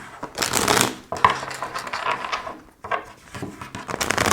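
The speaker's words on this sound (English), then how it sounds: "let's pull some cards on that." A deck of tarot cards is shuffled and cards are pulled, giving soft papery riffles and slaps in short bursts, close and fairly loud, with no talking.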